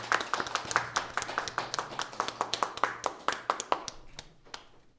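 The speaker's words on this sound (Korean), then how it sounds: "축복하는 마음으로 같이 박수로서 환영하겠습니다" A church congregation claps in welcome for new members, a crisp run of sharp, closely spaced claps in a steady rhythm that gradually thins and fades out near the end.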